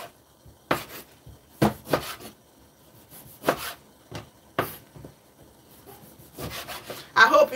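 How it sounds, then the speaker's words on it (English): A knife cuts through citrus fruit for tea in a series of separate rubbing, slicing strokes about a second apart, close up and moderately loud, with no talking. "I'm just gonna cut it and add to the saucepan"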